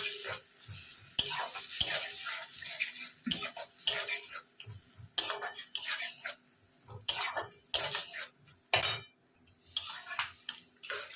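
Prawn and pointed gourd curry being stirred and sautéed in a pan, repeated scraping strokes of a spoon with clinks against the metal over a low sizzle, close and without talk.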